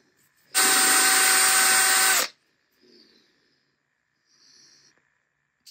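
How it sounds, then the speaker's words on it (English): A loud power drill with a 3/16 inch bit whines steadily for under two seconds drilling a hardware hole in a surfboard fin, then stops, followed by a few faint, soft handling sounds. "drilling out the hole in the front or the back of your fin for your hardware"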